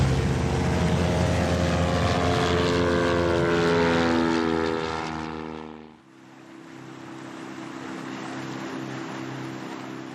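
A propeller aircraft flies over the Bay of Morlaix in Brittany, its steady droning engine loud and close for several seconds, then its pitch and level dip as it passes, leaving a duller hum.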